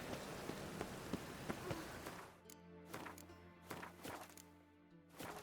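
Rain pours steadily in the video game The Witcher 3, a dense patter on surfaces with scattered sharper drops and thwacks, heard alone without voices.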